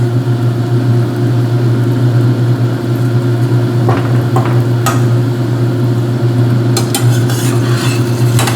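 Sausages frying in a pan and being turned halfway through cooking, a steady loud sizzle with a constant low hum beneath it, broken by a few scraping and clinking knocks as they are flipped.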